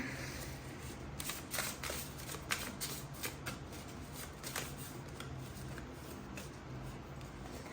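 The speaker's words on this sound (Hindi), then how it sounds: "चलिए पहले शफल करते हैं अच्छे से।" Tarot cards being shuffled by hand, a quiet series of soft riffling and flicking bursts repeating irregularly over a faint steady background.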